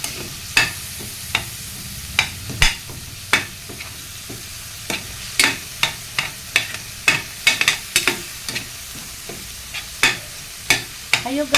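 Seasoned ground meat frying in a pan with a soft sizzle, stirred by a utensil that clacks against the pan in irregular repeated scrapes and taps, close and clear with no talking.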